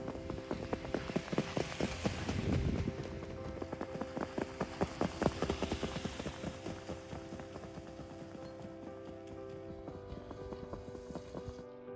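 Hooves of a trotting horse clip-clop in a steady rhythmic beat alongside creaking harness or cart mechanisms, the footfalls distinct early on and growing softer toward the end.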